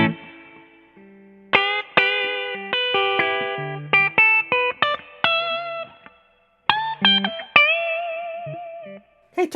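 Clean guitar amp with its spring reverb at 25%, played as a run of plucked notes and chords with short decaying tails and gaps of silence between phrases, no talk.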